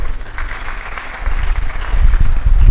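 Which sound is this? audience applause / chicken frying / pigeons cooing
audience applause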